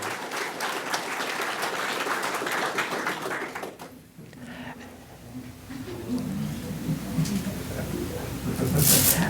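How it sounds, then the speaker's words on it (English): An audience at a career signing day ceremony applauds a high school student for about four seconds, then the clapping fades into quieter room sounds, faint voices and scattered taps. "Let's have a round of applause for Julian Davis from Ashbrook High School."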